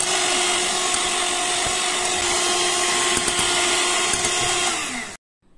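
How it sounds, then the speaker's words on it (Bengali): An electric beater whirs steadily while beating egg yolks into a fruit sponge cake batter, a loud, close, continuous motor drone that runs for about five seconds before switching off abruptly. "এবার দিয়ে দিচ্ছি ডিমের যে হলুদ অংশটা, সেটা দিয়ে তারপরে আবার বিট করে নিতে হবে।"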